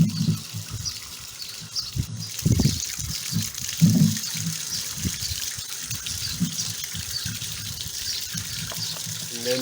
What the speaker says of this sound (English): As soon as the barrel is empty, the siphon is going to stop.